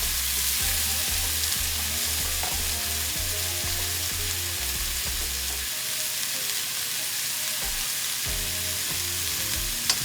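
Jamaican curry shrimp sizzle and fry steadily in an overly hot pot, a loud continuous crackle running throughout with occasional stirring knocks and a brief dip midway.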